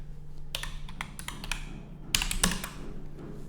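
Typing on a computer keyboard while entering code, with scattered key clicks in short bursts and a brief cluster of louder strikes midway, close and alone over a low steady hum.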